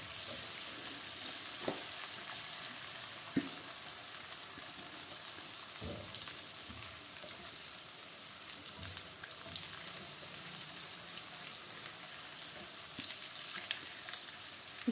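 Ginger garlic paste sizzles and fries steadily in a pan, with occasional soft scraping and clinks of stirring, close and continuous, no voices.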